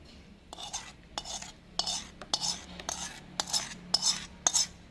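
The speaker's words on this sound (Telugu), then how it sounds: "ఇప్పుడు ఒక బౌల్ తీసుకొని బౌల్లోకి అంతా కూడా వేసేసుకోవాలి" Herbal hair dye ingredients, leaves and powders, tipped and scraped from containers into a bowl in a quiet room: a string of short, close, scraping and tapping bursts at irregular intervals, each lasting a fraction of a second.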